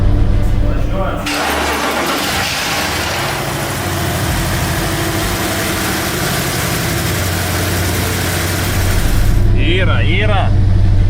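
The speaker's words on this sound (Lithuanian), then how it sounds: "Pažadintas žvėriukas. Varikliukas dainuoja." A car engine cranks and catches, then settles into a steady running hum under continuous talk, with someone speaking in Lithuanian toward the end.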